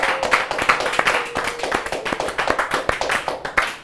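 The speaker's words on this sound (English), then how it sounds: "Let's all give a round of applause to the folks who have been donating today" Audience applause at an online Democratic Party fundraiser, with steady, dense clapping running through the whole stretch at moderate loudness and no talk over it.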